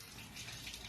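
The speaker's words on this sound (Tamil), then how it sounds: "அதில் தண்ணி ஊற்றி வச்சுக்கோங்க." Water pours steadily into a large kitchen vessel, a continuous close gushing splash with no voices.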